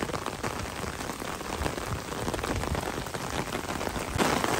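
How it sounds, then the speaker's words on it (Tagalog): A sudden heavy downpour hammers the ground at Doho Park in Tsuba, near tennis and pelota courts, a dense, loud, unbroken hiss of rain with no voices. "Biglang buhos ang ulan"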